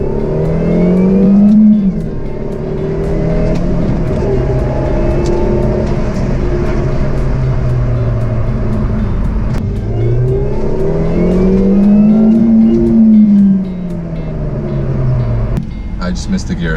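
A 2003 Mini Cooper S engine rises and falls through gear changes while driving, its rising drone swelling, dropping and climbing again under continuous close-up talk from inside the car.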